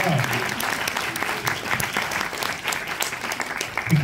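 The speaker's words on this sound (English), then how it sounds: "Give him a round of applause." An audience at a Disney House of Mouse event breaks into loud, sustained applause with some cheering, dense clapping filling the whole moment close and bright.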